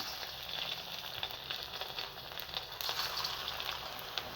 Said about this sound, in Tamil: இப்போ நம்ம இதிலேருந்து கொஞ்சம் கொஞ்சமாக கிள்ளி கிள்ளி எண்ணெயில் போட்டுக்கலாம்